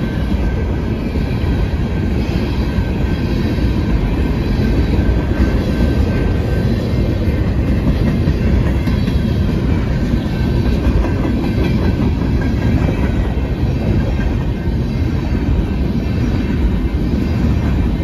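A freight train rolls past at close range on a joint line, a loud steady roar of wheels and clattering railcars that fills the whole stretch without any voices.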